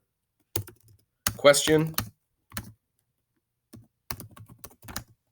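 Computer keyboard typing into a Google Classroom page, a few scattered bursts of key clicks between pauses, close and fairly quiet, with a person speaking briefly in between.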